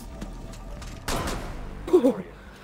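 In a tense round of a multiplayer shooter video game, a short burst of gunfire cracks out midway, followed moments later by a player's voice speaking.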